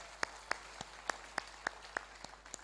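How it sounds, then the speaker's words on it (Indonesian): At a Tari Nusantara dance parade awards event at Taman Mini Indonesia Indah, about nine sparse, separate hand claps ring out one by one in a quiet space, roughly a third of a second apart. "Tepuk tangan dulu dong buat taman ini."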